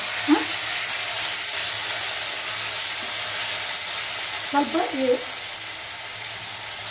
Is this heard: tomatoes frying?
yes